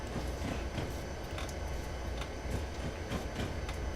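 Freight train of Great Northern and tank cars passing in the Railworks train simulator game, a loud continuous rolling roar with regular clickety-clack wheel beats over rail joints.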